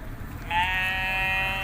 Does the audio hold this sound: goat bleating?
yes